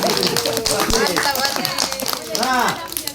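A group of children clap their hands during a fire brigade safety lesson for kids in Aceh, a dense, steady patter of claps mixed with lively young voices calling out throughout.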